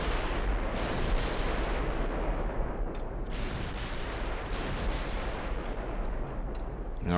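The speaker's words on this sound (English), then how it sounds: "We're firing at almost 50 kilometers." Warship guns firing at long range in the naval game Ultimate Admiral Dreadnoughts, heavy booming salvos rolling over a continuous loud rumble of battle with no talk.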